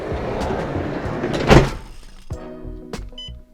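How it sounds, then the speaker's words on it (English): A camper van's door is pulled shut with one solid thunk, followed by a few smaller clicks and knocks of the latch and fittings inside the van. "so if we just shut the door"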